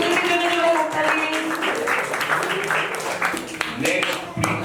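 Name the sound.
loud applause for a student at an ashram event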